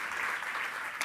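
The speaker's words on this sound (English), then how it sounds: "So warm applause." Warm audience applause at a European research and innovation conference, a dense steady wash of many hands clapping at close range that continues without a break and carries no speech.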